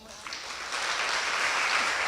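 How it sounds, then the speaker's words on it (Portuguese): A congregation's applause swells up and holds steady for a first-time visitor at a church gathering, a close, continuous clapping with no pauses. "Recebemos com a salva de palmas."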